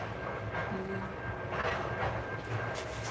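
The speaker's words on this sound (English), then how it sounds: "Oh, that's a train" A train rumbles past at a distance with a steady low roar and faint rhythmic clatter of wheels, heard indoors during a home chemistry session making ferrate.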